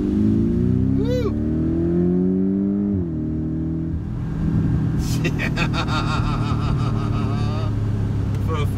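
A Porsche Cayman 718 GTS four-cylinder engine rumbles and revs up under acceleration, a rising engine drone heard from inside the car, with excited voices talking and shouting over it.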